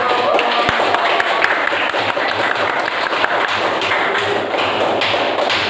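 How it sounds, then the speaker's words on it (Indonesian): A classroom group gives a round of applause, dense continuous clapping from many hands filling the whole stretch, close and fairly loud. "Beri tepuk tangan."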